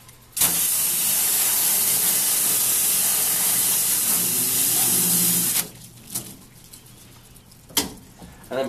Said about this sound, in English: Spray off this brush.